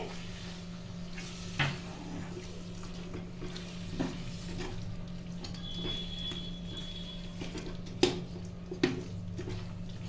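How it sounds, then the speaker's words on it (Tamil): Mutton and masala for Chettinad-style biryani simmering gently in a pot over a low flame, a steady soft bubbling hiss with a few faint clinks and taps, no talking. "கறியும் அந்த மசாலையும் சேர்ந்து நல்லா சுண்டி வச்சுட்டு இருக்கு."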